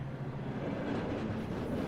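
A freight train rolls past in a film scene, a continuous dense low rumble with faint rhythmic clatter, steady and fairly loud with no voices.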